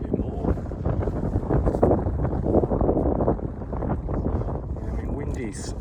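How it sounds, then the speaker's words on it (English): Wind gusting across Freshwater Bay Golf Course, buffeting the microphone with a steady, loud rushing roar that continues throughout while someone talks over it. "Wind blowing left to right."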